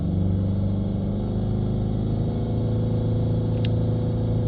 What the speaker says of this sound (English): Let's rev it up to 3000 RPM.